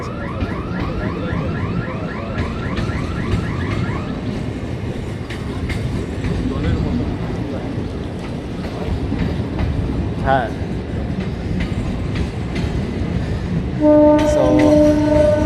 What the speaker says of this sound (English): So right now the train is coming from Diamond Harbour side,